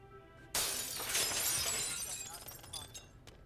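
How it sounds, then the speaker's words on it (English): Glass shatters loudly in the video game Hitman 3, a sudden crash followed by a spray of tinkling shards that trails off over a few seconds. "I need to break the glass."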